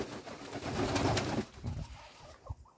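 Pigeons cooing in a farmyard coop alongside other poultry, a soft, throaty rolling call that swells and fades over a couple of seconds, close by with no talk.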